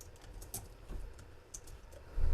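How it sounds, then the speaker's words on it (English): Keys clatter on a computer keyboard as someone types a short word during SQL coding, a handful of light, irregular clicks, quiet and close, with a thump at the end. "And this time we're going to type cook."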